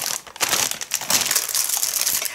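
A packet of rice snacks is squeezed and crushed by hand, giving dense, close-up crinkling and crackling that runs continuously for a couple of seconds.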